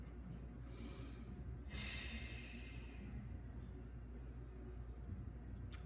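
During a held warmup stretch, a couple of soft, airy breaths rise faintly above a low steady room hum, then the room settles back to quiet.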